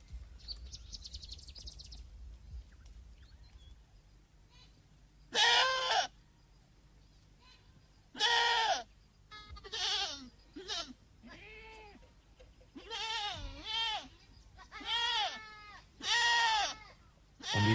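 Goats in a Somali nomad herd bleat in a series of loud, wavering calls, several overlapping close by after a quiet opening, with a faint rustle in the background.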